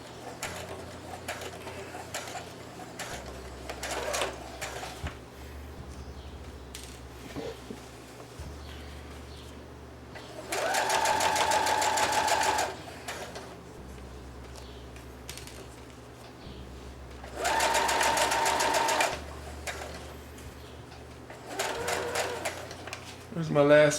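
A sewing machine stitches jeans into shorts in two loud, steady whirring bursts of a few seconds each, separated by quieter stretches with someone talking.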